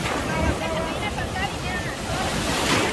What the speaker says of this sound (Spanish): se vienen las olas más cerca